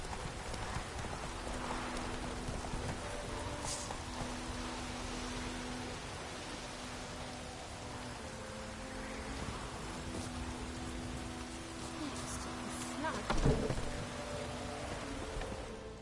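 Steady rain hisses evenly throughout in The Witcher video game, with faint rhythmic clopping beneath the downpour.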